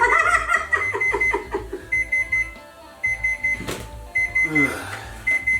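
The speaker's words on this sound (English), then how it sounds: "thank God for the beeper." Repeated electronic beeping in short pulsed bursts from a Samsung NX58R5601SS range oven timer, with a little laughter and chatter mixed in.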